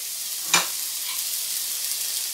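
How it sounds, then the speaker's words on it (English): Chicken sizzles in a frying pan with a bright, even hiss held close throughout, interrupted once by a brief clatter as it is moved. "the chicken's sizzling away, as you can see"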